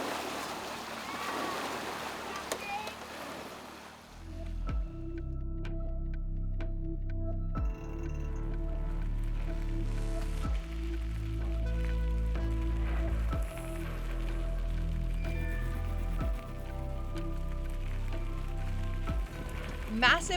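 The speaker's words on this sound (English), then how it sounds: "Cecily Decker being brave and going directly through the creek." A gravel race bike ridden by an elite woman racer goes straight through a creek at mile 89 of a pro race, with splashing and rushing water. Broad, loud water noise follows a brief rougher passage at the start.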